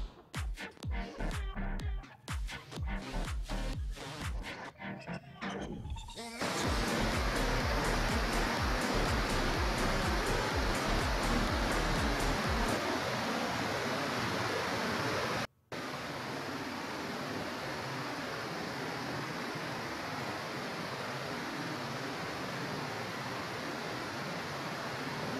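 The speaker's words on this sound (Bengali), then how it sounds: "এখান থেকে শুরু হলো ওয়াটারফলসের সিঁড়ি, এবং পাশ দিয়ে জলের ধারা নেমে আসছে।" Rushing water of a stream flowing down beside waterfall steps at Khandadhar in Odisha, a dense, steady roar that swells loud after an uneven start and holds constant, with a brief dropout midway.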